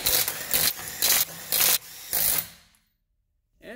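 Impact wrench running lug nuts up on a 2013 Nissan Altima during rear lower control arm replacement: five loud close bursts of whirring rattle with brief gaps between them, then silence.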